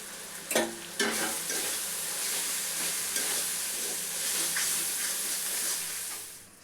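Ground cumin, coriander, Kashmiri chili and turmeric sauté in hot oil in a pan for a Bengali katla fish-head moong dal. There is a constant close sizzle, with a couple of sharp spatula knocks near the start and no speech.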